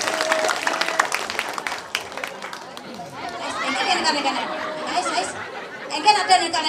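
Guests at a Balinese gathering clap and chatter together; lively applause mixes with overlapping voices, some laughter and shifting crowd noise, swelling again toward the end.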